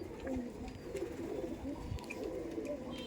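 Kaldom pigeons, an old Giribaz type, cooing softly in a low continuous murmur, faint and close, without any clear talk.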